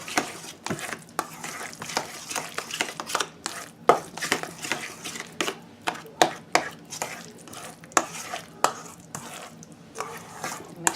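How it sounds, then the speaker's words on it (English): A utensil scraping the bottom and sides of a bowl while mixing guacamole, giving a run of irregular, sharp scrapes and taps close by with no talk. "I scrape the bottom and the sides."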